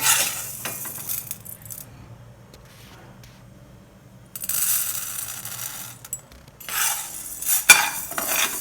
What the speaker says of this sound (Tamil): இந்த கை விடாமல் நல்லா வறுத்துக்குவோம் கருகாமல் வறுத்துக்கலாம்